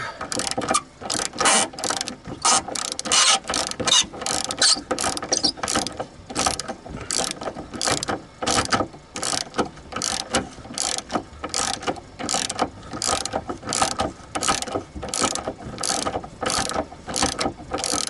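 A hand ratchet wrench rasps in rapid repeated strokes while loosening bolts on the bumper of a 1994-99 Subaru Outback/Legacy wagon, close and loud, each burst of clicks separated by short pauses, no talking.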